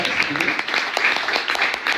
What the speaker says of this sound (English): So one last round of applause for you guys.